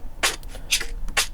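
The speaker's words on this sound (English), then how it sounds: "Then I have this offbeat shaker," Offbeat shaker loop taken from a 90s drum pack, giving soft breathy rattles on the offbeats, three main strokes with faint ghost shakes between, played alone.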